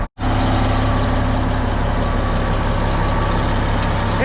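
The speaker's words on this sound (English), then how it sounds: "I'm gonna pivot the one track and drive this one track" A Caterpillar D10T dozer, fitted with new tracks, pivots by driving on one track, giving off a loud, steady, close diesel roar with a deep low drone that runs unbroken after a brief cut at the start; no talking.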